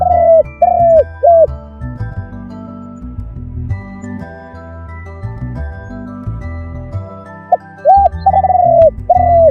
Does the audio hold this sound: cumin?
no